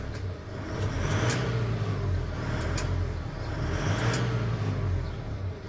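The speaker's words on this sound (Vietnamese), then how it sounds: "để cho bà con cùng nghe cái âm thanh tiếng máy nó như thế nào ha" A 2015 Samco Isuzu 29-seat bus engine runs with a steady, smooth low rumble that swells gently at times and carries a faint mechanical rattle, heard from close by without speech.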